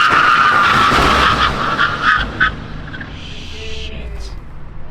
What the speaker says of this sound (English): 160 kilometers an hour slamming on brakes, engaging ABS